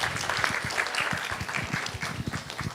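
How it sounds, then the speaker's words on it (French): An audience at a film club discussion breaks into steady applause, dense clapping from many hands sustained throughout at a fairly loud, even level. "Applaudissez pour elle."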